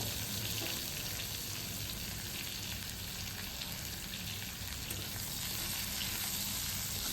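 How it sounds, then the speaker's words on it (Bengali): Eggplant fries in oil left over from frying hilsa fish, a dense, steady sizzle and crackle that holds evenly throughout with no talking. "সেই তেলেই আমি দিয়ে দিচ্ছি বেগুন"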